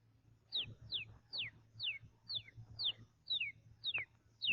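A voice on a 1939 radio amateur-hour broadcast imitates a day-old chick with a series of high, thin peeping chirps, about two per second, evenly spaced and fairly quiet.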